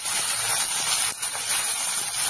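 Chopped capsicum and tomato sizzle in hot oil with garlic and onion, giving a loud, continuous, close hiss with small crackles throughout and no talking.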